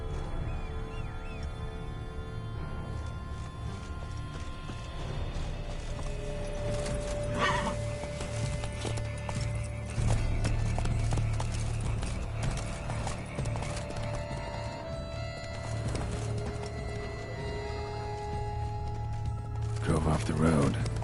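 Hooves of Roach, Geralt's horse in The Witcher 3, clip-clop at a steady gallop along a road with wagon tracks, close and continuous under game music and ambience, with occasional neighs.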